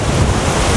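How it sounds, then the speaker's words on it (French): Strong wind roars over a lake during a fishing outing, a loud, dense, continuous rush buffeting the microphone throughout a brief moment. "Le vent s'est levé"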